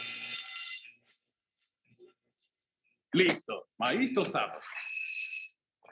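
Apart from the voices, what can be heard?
fire alarm ringing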